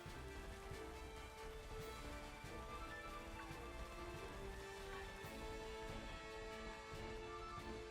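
Steady rain in Pokemon Scarlet patters continuously on a surface, an even wash of drops at low volume with no talking.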